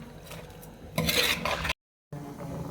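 A tamarind fish curry is stirred in a pot, a short scraping and rubbing of a spoon against the metal heard close and alone, broken by a brief dead gap.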